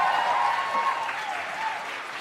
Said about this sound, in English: I want you to give my band a round of applause.